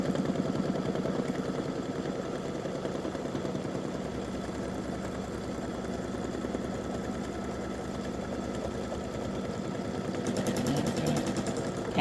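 An embroidery machine stitches steadily around the hoop on an in-the-hoop mug rug, a fast, even mechanical chatter held at constant level throughout, close and alone.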